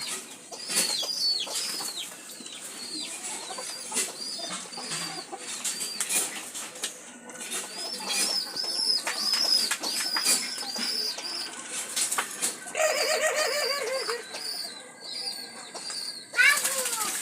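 Doves bathing in a water dish, with repeated bursts of wing flapping and splashing alongside frequent bird calls and cooing, fairly close and continuous throughout.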